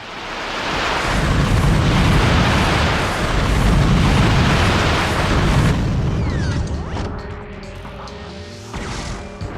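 Missiles from the Rhino launcher in Ratchet & Clank burst in a loud, sustained barrage of booming blasts, then thin out into scattered pops and metallic clatter.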